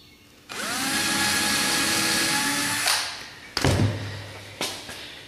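A power drill bores a pilot hole for a screw through plexiglass on a bee hive observation window, a steady whirring run of a few seconds, then the drill stops and a couple of close thumps and taps follow.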